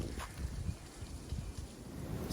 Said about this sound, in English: It's very cold and windy and rainy today.